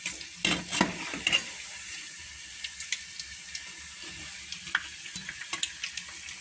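Small strained-yogurt dough balls sizzle steadily in hot oil, with soft crackles and a few louder pops and clinks early on.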